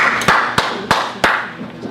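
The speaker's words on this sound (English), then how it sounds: "Clap the other side, I'll clap this side." Four sharp, evenly spaced claps ring out, loud and close, from people at a town budget meeting, with a faint fifth clap trailing off.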